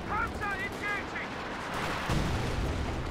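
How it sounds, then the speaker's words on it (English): Priest self-propelled artillery in a strategy video game fires a heavy cannon shot as a dull boom rolls under continuous battle noise and distant gunfire, while a commentator talks over it. "Priest is firing."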